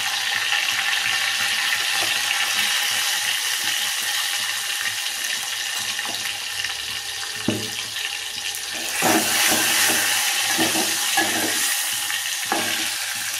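Finely chopped tomatoes fry in a hot pan for drumstick amti, a dense steady sizzle that flares louder partway through, with occasional spoon knocks against the pan.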